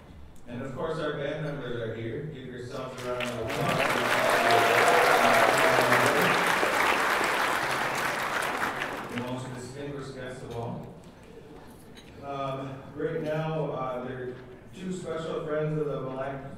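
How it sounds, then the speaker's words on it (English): An audience at the Mille Lacs Band of Ojibwe State of the Band address breaks into loud, sustained applause lasting several seconds, rising and then fading as a voice speaks before and after it. "Give yourselves a round of applause."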